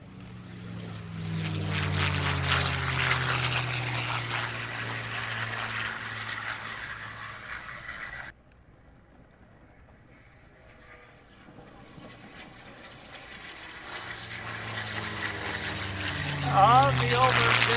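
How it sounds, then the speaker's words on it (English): A P-51 propeller airplane drones loudly at an air show, fades briefly, then builds again with a rising high whistle as it passes close by. "it is such a popular airplane, it even knows how to whistle"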